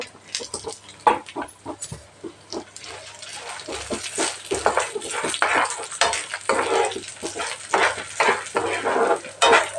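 Fenugreek seeds and cumin frying in oil in a pan while being stirred, with steady sizzling under repeated scrapes and clinks of a utensil against the pan, close and fairly loud throughout, no talking.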